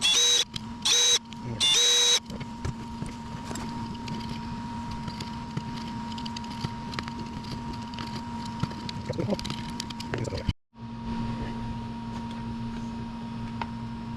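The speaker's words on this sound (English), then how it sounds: "What I'm going to do is drill a series of holes around here." A drill bores a run of holes through a 3D printed lightbox sign, a steady whirring motor hum that holds for about ten seconds, stops briefly and then resumes, after a few short bursts at the start.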